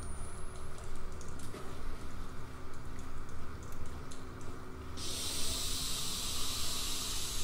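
Steam hisses in a sewer level of the horror game Outlast, a steady broad hiss over low rumbling ambience that surges abruptly louder and brighter partway through and keeps blasting to the end, with no voice.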